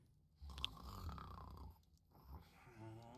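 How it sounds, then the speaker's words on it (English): A video game character snores in low, drawn-out breaths, with a couple of rough, rumbling snore cycles heard close and alone. "soon enough I heard his snoring"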